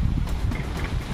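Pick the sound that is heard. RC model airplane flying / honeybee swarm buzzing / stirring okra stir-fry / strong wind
strong wind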